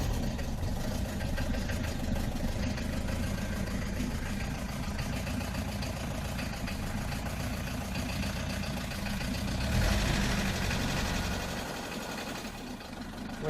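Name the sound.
1972 Mercedes W115 220 Diesel engine starting and idling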